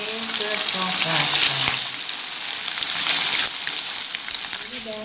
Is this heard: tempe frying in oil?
yes